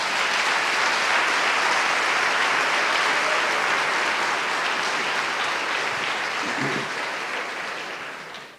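A church congregation applauds, dense sustained clapping that holds steady for several seconds before tapering off at the end.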